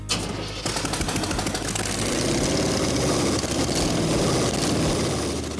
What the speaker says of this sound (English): This engine sounded good.